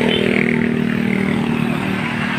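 A Honda Wave S125 motorcycle engine with a 62 mm big-valve setup revs steadily at close range, a buzzy continuous drone with a slight rise and fall in pitch.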